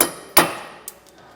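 Two hard metallic hammer strikes ring out during disc brake installation on a 2017 K-Z Sidewinder trailer axle, the second louder, then a small lighter clink as the ringing fades.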